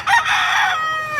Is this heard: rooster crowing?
yes